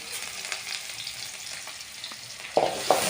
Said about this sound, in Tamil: ஸோ வெங்காயம் போட்டுட்டு நம்ம நல்லா வந்து அதை டாஸ் பண்ணி எடுத்துக்கலாம்